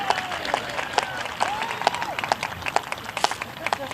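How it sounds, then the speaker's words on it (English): Audience applause at a high school scholarships and awards ceremony, a steady moderate wash of clapping with sharper individual claps standing out, while a voice talks over it. "Let's give these guys a round of applause."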